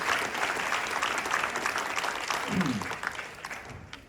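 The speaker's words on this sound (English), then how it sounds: "Can we give a round of applause for Lydia?" A crowd at an Oakland poetry event opposing big oil breaks into sustained applause for a poet, with voices and cheers mixed into the clapping before it thins out.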